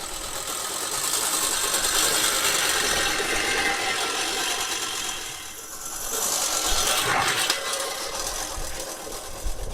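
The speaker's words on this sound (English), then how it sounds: "Just simply some more testing of that mower. It still works." A lawn mower engine runs steadily during an early-season test, a continuous close mechanical drone with a brief dip in level midway before it picks back up.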